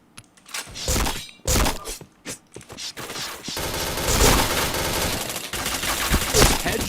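Gunfire in the Nobunaga Katana match: bursts of shots and rapid automatic fire with thuds, dense and loud through most of the stretch, with no talk over it.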